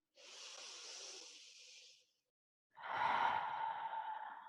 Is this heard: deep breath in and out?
yes